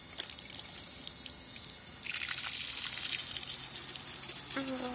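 A water fountain sprays and splashes, a soft trickle that swells into a louder, steady rushing gush halfway through.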